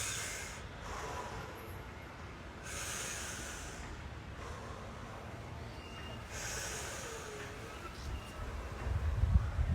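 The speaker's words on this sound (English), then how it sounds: "And breathe." Slow, deep breaths during a relaxation exercise, soft airy inhales and exhales in long swells, close and fairly quiet, ending with a louder rustle.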